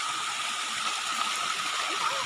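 A river with many waterfalls in Atimonan, Quezon rushes in a steady, dense roar of falling and flowing water, loud and close, with no break across the moment.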